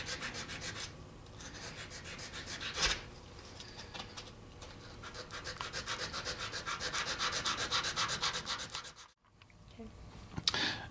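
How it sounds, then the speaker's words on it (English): Continuous rasping sanding strokes on a steel fountain pen part, close and steady, with a rhythmic back-and-forth scrape and a short pause near the end. "at this point, I'm sanding it, smoothing it up, getting the tool marks out of it"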